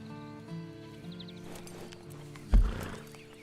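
Horse sounds in the Western game Red Dead Redemption 2, with soft hooves and snorting over a quiet musical bed and a sudden low thump near the end.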